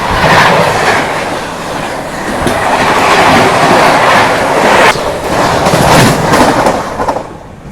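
Vikramshila Superfast Express from Anand Vihar to Bhagalpur rolling on the rails, a loud, steady rumble with rhythmic clickety-clack over the joints, close and continuous throughout.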